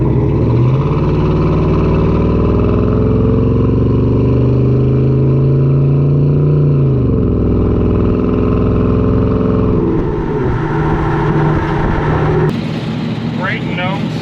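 A 1972 GMC 1500 truck with a swapped LS V8, tuned as a smooth cruiser, pulls up through its gears, the engine drone rising and dipping with each shift, loud and close from inside the cab, with brief talk near the end.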